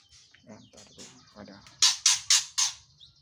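Caged oriental magpie-robins chirp nearby: softer scattered calls, then four loud, sharp chirps in quick succession.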